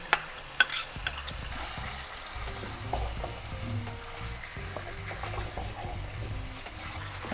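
A spoon stirs lentil soup in a pot just after potatoes go in. It makes faint, close scraping and sloshing with a few small knocks against the pot over a soft simmering hiss.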